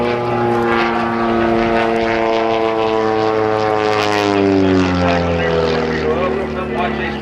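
Aerobatic propeller airplane performing at an airshow, diving down a vertical line with rolls, its engine droning loudly and steadily with a shifting pitch, under continuous announcer commentary.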